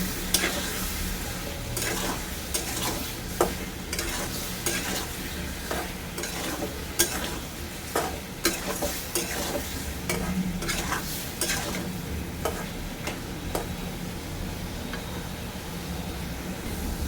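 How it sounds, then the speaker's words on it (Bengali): Tomato, chili, salt and turmeric are stir-fried in a pan, a continuous sizzle broken by repeated spatula scrapes and knocks against the pan, close and steady without speech. "এবার এটা আমি কষিয়ে নিচ্ছি শুধু টমেটো আর লঙ্কা নুন হলুদ"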